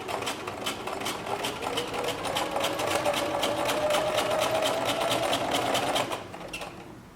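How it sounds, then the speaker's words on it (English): Sewing machine stitching a hem on stretchy knit fabric, a fast, even rapid-fire clatter of the needle running steadily close by, then slowing and stopping near the end; no talking. "I'm just guiding it along the edge of the presser foot."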